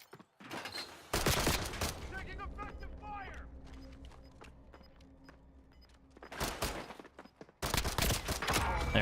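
Pistol shots in the Call of Duty Warzone video game ring out in a few sharp bursts near the start and end, with quieter game sounds and a voice talking in between.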